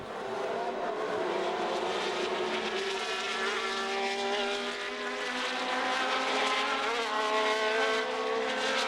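Formula 1 race cars of 1970, a Ferrari among them, roar off the starting line together, a dense, sustained engine howl with rising and shifting pitches, loud and close, with no talk.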